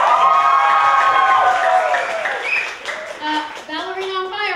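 Audience at a comedy sports match clapping and cheering with shouts and whoops, loud at first and then tapering, with a voice speaking over the tail end.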